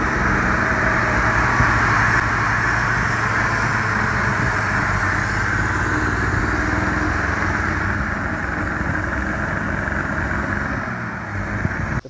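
A 6.0 diesel truck engine runs loudly and continuously at close range, a heavy rumbling drone with a broad hiss that holds steady before cutting off at the end.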